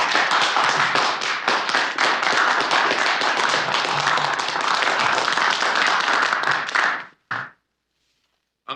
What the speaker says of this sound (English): the Privy Council paused in its work to welcome and applaud a comrade